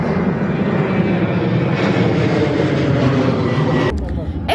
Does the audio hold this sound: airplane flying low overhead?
yes